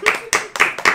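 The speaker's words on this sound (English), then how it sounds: "Hey, give her a round of applause" A few people clapping hands in a home kitchen: four distinct, crisp claps in an uneven rhythm, close and fairly loud, with a faint voice mixed in.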